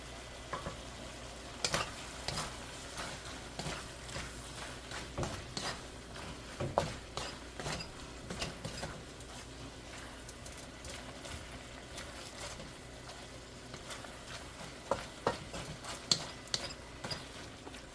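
Squid adobo with chili fries in a pan, a soft continuous sizzle broken by repeated scraping stirs and light clinks of a ladle against the pan, close and fairly quiet, with no talking.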